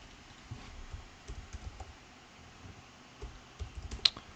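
Soft, irregular typing on a computer keyboard at a desk, scattered keystrokes and a few louder clicks near the end, with no one talking.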